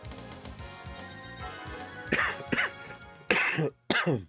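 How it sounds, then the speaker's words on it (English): A single person coughs several times in sharp, close bursts near the end, following a stretch of low, muffled background sound. "I've been pretty good about catching most of my coughs, but not that one"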